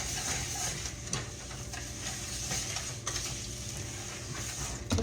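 A spoon stirs thick brownie batter with sugar in a bowl, giving a continuous close scraping and sloshing with small knocks against the bowl, no talking.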